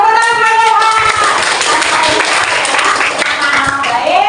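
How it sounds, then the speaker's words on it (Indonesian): In an Islamic religious education class, pupils clap their hands in a steady rhythm while voices chant and talk along over the clapping. "Tepuk tangan bagi Allah."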